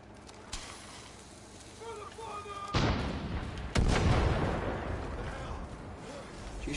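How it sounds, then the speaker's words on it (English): Mortar rounds fire and burst in the video game Far Cry 5, with two heavy booms that leave broad rumbling noise. Faint earlier thuds and a player's voice come before them. "Trying to fucking mortar me,"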